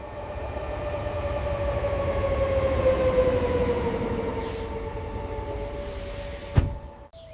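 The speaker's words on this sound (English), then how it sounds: "The train is arriving." A train pulls in, its rumble swelling and then easing, with a long sustained tonal squeal of wheels or brakes sliding slowly downward and a sharp clunk near the end.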